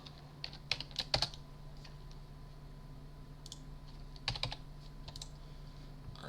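Keys are typed on a grandMA3 lighting console keyboard in short bursts of light clicks, quiet and close, with pauses between groups against a low steady hum.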